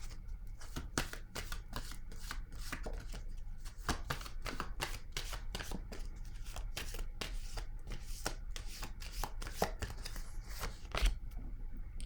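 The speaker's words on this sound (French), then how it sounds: "Je vais déposer une carte." Tarot cards shuffled and laid down one by one during a card reading, a steady run of close, crisp riffling snaps and slaps with no voices over them.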